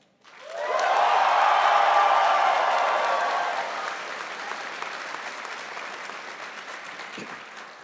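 Graduates at a Winter 2026 SAIT convocation ceremony break into loud, sustained applause and cheering that swells within a second, peaks, then slowly thins to scattered clapping in a large hall.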